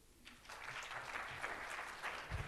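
An audience at an Essex County College Africana Institute event in 2015 claps steadily throughout, with a dense, sustained patter of many hands and no voices over it.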